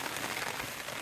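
Rain patters steadily over a mountain campsite, a dense even hiss of drops hitting surfaces with no voices.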